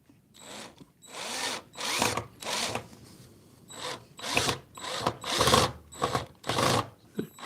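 A power drill drives screws into wood during a beginner woodworking lesson, buzzing in a series of short pulsed bursts with brief pauses between them, close and clear.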